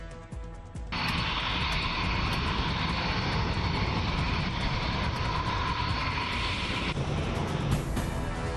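Indian Air Force fighter jets flying at the Vayu Shakti 2024 air show in Phalodi, Rajasthan, produce a loud, sustained roaring jet wash that swells in abruptly and holds steady overhead, with no speech.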